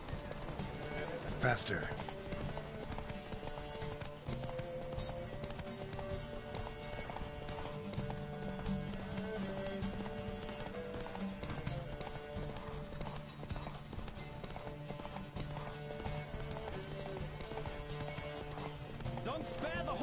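Galloping hooves from a horse race in The Witcher video game, a fast, continuous clip-clop rhythm close up with an occasional whinny, under game music, while a voice urges the rider on.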